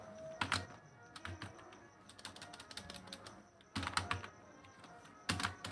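Keys clatter on a computer keyboard while typing in Microsoft Word, arriving in quick, close clusters of taps separated by short pauses, with quiet room tone between the bursts.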